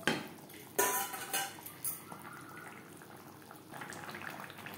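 Katla fish curry with vegetables cooks in gravy in a pan, with a metal spoon clinking and scraping against it over a faint steady simmer.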